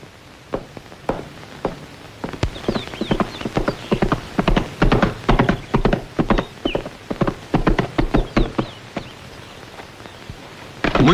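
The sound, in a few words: horse hooves clip-clopping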